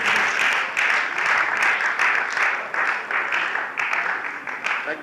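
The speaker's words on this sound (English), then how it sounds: "Please, can we keep clapping until he comes forward?" An audience at a youth fellowship boot camp claps steadily and loudly, a dense continuous wash of applause with no break, as someone comes forward.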